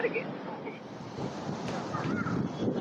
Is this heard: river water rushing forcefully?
yes